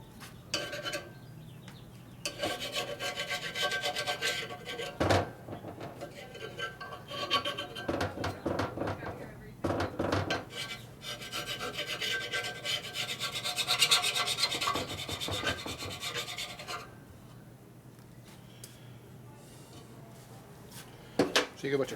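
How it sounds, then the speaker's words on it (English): Flat-blade screwdriver scraping debris out of holes in a Harley M8 lower end, repeated close gritty metal rasping and rubbing in bursts with brief pauses, someone talking intermittently throughout. "a screwdriver works pretty good for getting that stuff out"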